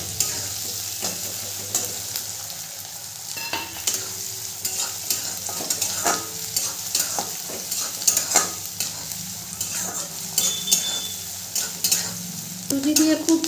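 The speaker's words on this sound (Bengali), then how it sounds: "লঙ্কা কুচিটা দিয়েও ভালো করে ভেজে নেব।" Chopped green chilies fry in a pan for masala idli, a continuous sizzle with repeated stirring scrapes and light clinks of a spatula, no voices.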